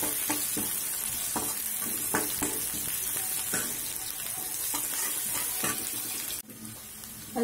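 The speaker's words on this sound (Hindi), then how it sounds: "इसको अच्छे से भूनेंगे हम" Finely chopped onion frying in a pan, a loud, constant close sizzle broken by regular scraping stirs of a spoon, with a brief dip near the end.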